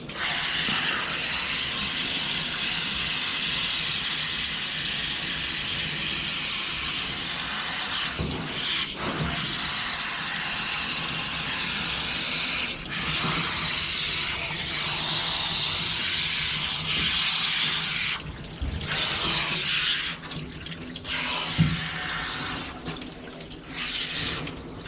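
Continuous water spray from a bath sprayer rinsing an injured dog, a loud steady hiss lasting the whole stretch with brief dips where the flow shifts or is blocked, no talking.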